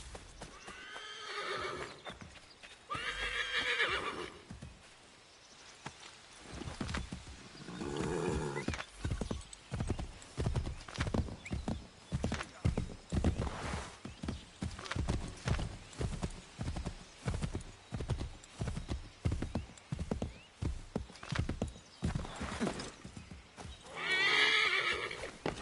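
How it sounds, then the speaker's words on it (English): Horse hooves clip-clop at a gallop, with loud whinnies near the start and end, in the Assassin's Creed 3 video game. The galloping runs steadily throughout, and no one speaks. "They shot my horse."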